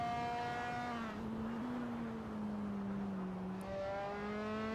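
A single-seater race car engine exits the final corner at Lusail in a sim race, a clear, buzzy, tonal whine that dips as the revs fall, climbs, then drops again near the end, alone and steady in level.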